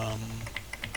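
Keys being pressed on a 1983 Atari 800XL home computer keyboard under test, with several distinct plasticky clicks in an uneven rhythm that come close and fairly quiet after a low hum at the start.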